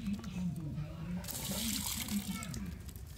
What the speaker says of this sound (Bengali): আমগুলো কিন্তু আবারও আমি ধুয়ে নিচ্ছি।